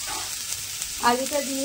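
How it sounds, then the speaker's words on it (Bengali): Thinly cut potato strips fry in oil for a bottle gourd peel curry, giving a short, even sizzle up close with a brief tonal squeak over it toward the end. "আলুটা কিন্তু তেলের মধ্যে দিয়ে একটু ভেজে নিতে হবে।"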